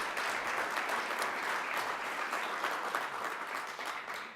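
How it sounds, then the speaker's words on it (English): Audience applause at a 2016 innovation summit, a dense, steady wash of many hands clapping that holds loud throughout and tapers slightly at the end, with no talk over it. "one last round of applause for Brandon"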